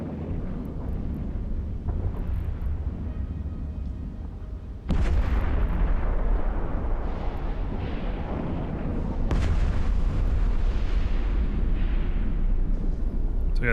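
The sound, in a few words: missile fire and explosions in the video game EVE Online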